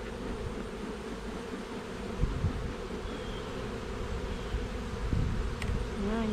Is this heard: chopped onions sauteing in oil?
no